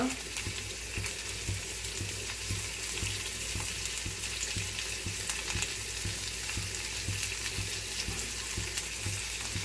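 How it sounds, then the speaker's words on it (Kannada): Garlic and cumin seeds frying in oil give off a dense, constant sizzle, close and even, with a faint regular ticking of stirring underneath and no speech. "ಬೆಳ್ಳುಳ್ಳಿ ಇದನ್ನು ಚೆನ್ನಾಗಿ ಫ್ರೈ ಮಾಡ್ಕೋಬೇಕು"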